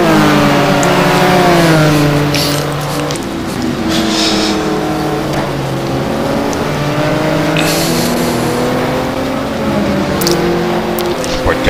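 Race car engines roar and shift pitch in a GT1 racing video game at Brno, with a Ferrari 575 among the field, several cars revving and passing continuously under a commentator's steady talk.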